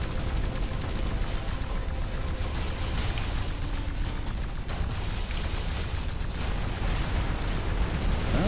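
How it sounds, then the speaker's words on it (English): Dense, continuous explosions and gunfire rumble through a battle in the X-Morph: Defense video game, a loud, unbroken barrage with no pauses. "I saw some explosions there."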